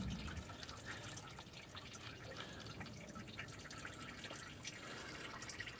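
Engine oil pours from the drain plug of a 1997 Ford F150 into a pan below, a steady close-up splashing and trickling stream that continues without pause throughout.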